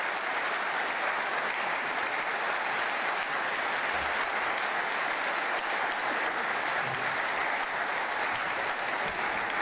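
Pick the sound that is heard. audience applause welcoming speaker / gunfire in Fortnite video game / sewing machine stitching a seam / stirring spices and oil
audience applause welcoming speaker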